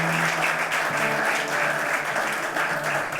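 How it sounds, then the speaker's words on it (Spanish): Sustained applause from a church congregation at a Spanish-language worship service, steady and dense throughout with a few voices faintly mixed in. "Un fuerte aplauso para el Señor."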